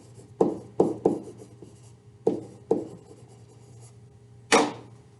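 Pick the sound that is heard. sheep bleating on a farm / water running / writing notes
writing notes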